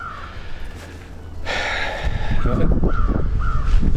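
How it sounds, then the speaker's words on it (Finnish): A raven calls with loud, harsh caws in the wilderness of Finnish Lapland, repeated several times from close by and growing louder and more frequent toward the end. Breathing and rustling sit underneath. "Kumma korppi tossa pyörii ja huutaa."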